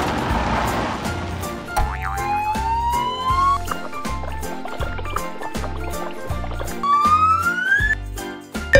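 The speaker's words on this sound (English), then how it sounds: "Police car." A toy police siren wails with rising electronic tones over a bouncy, beeping tune, playful and repetitive.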